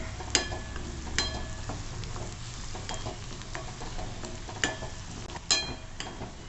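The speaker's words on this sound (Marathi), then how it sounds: "आणि मसाले छान परतवून घ्यायचे जरा" Spices for a dry green moong masala sautéing in a pan, with a soft steady sizzle and a few sharp scraping stirs of a spoon, quiet and close, no voices.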